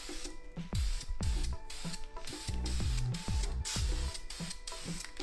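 A spray can lays light coats onto a G35 sedan headlight in a string of short, evenly spaced hissing bursts with brief gaps, close by and moderately loud.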